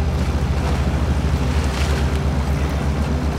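A truck ploughs through water in the SnowRunner video game, a steady loud wash of churning water and low engine rumble that stays constant and close throughout.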